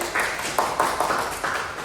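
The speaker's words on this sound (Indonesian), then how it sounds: "Kita beri tepuk tangan dulu untuk teman-temannya" Classmates in a classroom give a quick round of applause, a short patter of scattered hand claps that rises and fades within a couple of seconds, close and moderately loud.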